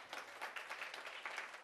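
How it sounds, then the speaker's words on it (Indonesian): A church congregation bursts into brief, lively applause: a short, even wash of many hands clapping together, moderately loud and without a break. "Tepuk tangan yang dahsyat."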